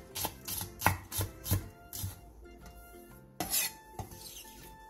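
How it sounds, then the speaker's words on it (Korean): A knife chops green onion white parts on a cutting board in quick, crisp taps, a burst of about eight close strikes followed by a few sparser cuts and light scraping. "대파의 흰대 부분을 길게 반으로 가른 뒤 쫑쫑 썰어주세요."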